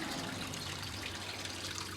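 Water flows weakly into an LG Inverter 11 kg automatic washing machine with a slow-fill fault, giving a steady, soft hiss and trickle with a low hum beneath and no pauses.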